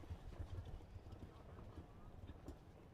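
Hooves of a show jumper clip-clopping steadily around an outdoor grand prix jumping course, a soft continuous rhythmic patter at moderate distance with low rumbling ambience.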